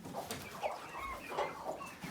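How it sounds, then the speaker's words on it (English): A flock of hens clucks in short, overlapping calls around a rooster, fairly close and steady, with soft repeated bursts across the yard and no talking. "Look at all the hens following him around."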